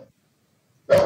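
A single short dog bark bursts in near the end of the moment, with silence before it, from a video game match.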